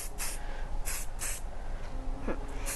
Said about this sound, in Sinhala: ඊට පස්සේ අපි අයිස් ස්ප්‍රේ කරනවා.